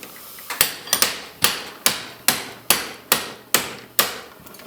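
Framing hammer striking repeatedly at a steady pace during a 1970 Ford Mustang Mach 1 build, about ten sharp, close, loud blows with ringing decays and no talk.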